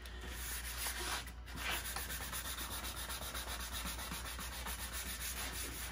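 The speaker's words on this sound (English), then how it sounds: "You'll notice as I sand through that top glaze coat," Hand sanding through the top glaze coat of a blond pickled oak piano cabinet, a faint, steady rhythmic rubbing scratch repeating closely with a brief pause, alone without voices.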